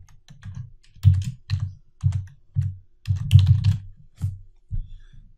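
Computer keyboard keys pressed in bursts of clacking strokes, several rhythmic clusters of typing with short pauses between, close and fairly loud with no talk.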